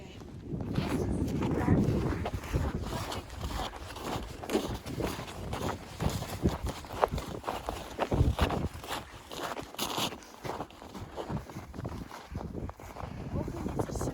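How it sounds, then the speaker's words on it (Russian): Gusty wind buffeting the microphone during winter pike fishing on snowy ice in a blizzard, a constant rumbling roar with scattered crunching and rustling sounds close by. "Ох, и ветер сегодня"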